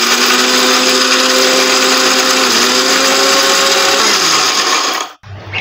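A mixer grinder loudly whirs as it grinds roasted masala spices into powder, a steady high motor whine with a slight pitch shift midway, then abruptly switches off near the end.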